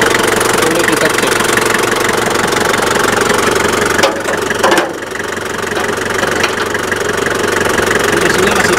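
A 2003 Daihatsu Rocky 4x4 diesel idles up close with a steady knocking clatter, briefly dipping and muffled for a moment midway before settling back into its even rhythm.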